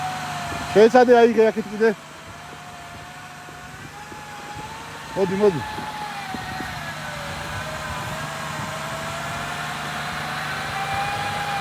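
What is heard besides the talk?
stuck vehicle engine being revved during rescue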